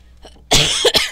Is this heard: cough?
yes